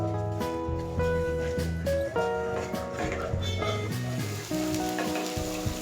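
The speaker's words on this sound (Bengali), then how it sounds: "এবার গ্যাসের ফ্লেম অন করে সব মশলা একসাথে মিশিয়ে নেব।" Spices for chicken kofta curry, mixed with a little water, being stirred and sizzling in a pan on a gas flame, a soft continuous fry under prominent background music.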